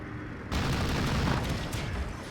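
Cannons firing in a World War II flight combat game featuring a Do 217 J-1 heavy fighter, a sudden loud burst of sustained rapid booming fire that starts abruptly and rumbles on continuously.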